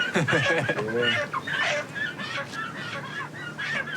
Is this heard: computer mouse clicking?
no